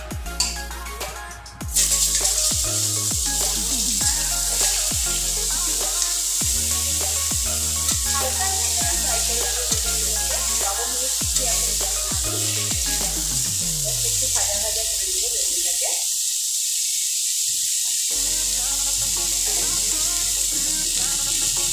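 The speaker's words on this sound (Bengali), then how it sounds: "এবার আমি বেগুনগুলোকে একটুখানি ভাজা করে নেব।" Eggplant pieces fry in a pan with loud, continuous sizzling, broken by repeated scraping and clinking as they are stirred, before the sizzle thins out near the end.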